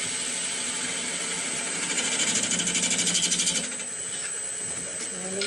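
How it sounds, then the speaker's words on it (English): A bowl gouge cuts wood spinning on a lathe, giving a steady rasping, chattering scrape that swells louder midway, then eases back under a constant machine hum. "I'm going to try my bowl gouge and see if I can get a nice clean cut coming in."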